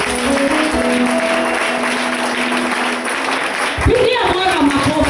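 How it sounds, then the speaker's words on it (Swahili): A worship congregation claps together in a sustained, dense wash of applause, loud and close, while a voice speaks over it. "Pigia Bwana makofi"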